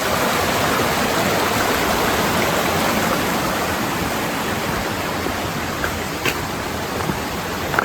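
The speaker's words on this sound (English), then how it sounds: "It's a pretty creek." Steady broadband rush of a creek flowing beside a wet, rainy trail, continuous and close with no voices, a few faint drips and knocks near the end.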